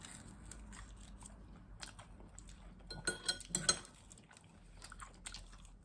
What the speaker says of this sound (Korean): 진짜 치즈볼 너무 먹고 싶었어